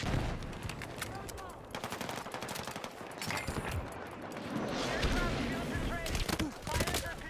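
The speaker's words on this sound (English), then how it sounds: "Automated turret." Automated turret in Battlefield 6 firing rapid bursts of gunfire, dense and continuous through the clip with scattered shots and battle noise, a voice speaking briefly underneath.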